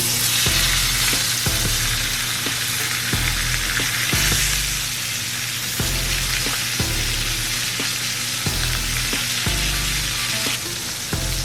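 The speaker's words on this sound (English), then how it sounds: "we're going to sear the meat for about 3 to 4 minutes on each side" Meat for a pot roast searing in a hot pan on a very hot burner turned to medium-low, a steady loud sizzle running throughout, with background music pulsing along underneath.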